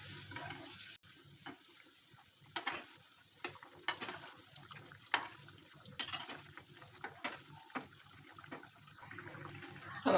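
Lentil kebabs fry in a pan over medium heat with a continuous soft sizzle, punctuated by repeated close clicks and scrapes of a spatula, no talking.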